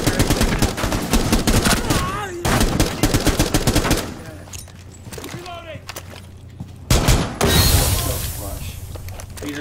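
Rapid bursts of gunfire from a first-person shooter video game come in dense volleys separated by brief pauses, with players talking excitedly over the shots.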